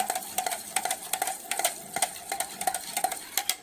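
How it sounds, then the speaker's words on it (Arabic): A spoon scrapes around a bowl in quick, regular strokes while a mixture is stirred until it dissolves, each stroke a sharp, close clink in a steady rhythm, heard alone. "بقلبه كده كويس لحد ما يذوب كله كده"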